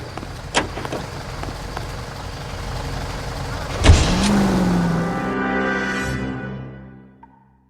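Car from the L.A. Noire video game driving, a steady engine rumble with a door thud near the middle followed by a rising engine drone that fades out at the end.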